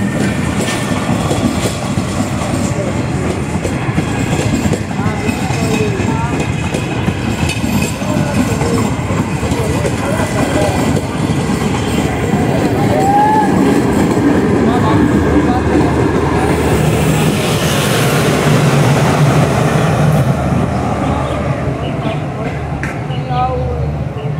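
An express train pulls into a busy railway junction, with rolling wheel clatter and rumble under crowd noise and voices on the platform at Shahdara station during the Eid rush.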